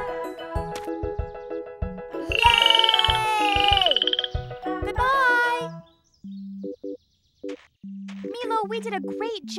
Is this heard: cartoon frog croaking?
yes